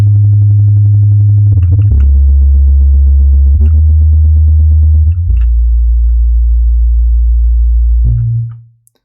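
Sub bass preset in an Ableton instrument rack, built from looped single-cycle Chilean kalimba samples, plays a loud, deep sine-like tone that shifts pitch in several sustained notes with soft plucky attacks before fading out.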